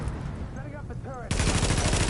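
Mounted machine gun turret opening up in Tom Clancy's The Division, a sudden dense burst of rapid automatic fire that cuts in after a short quieter stretch with a faint voice, then runs loud and continuous to the end.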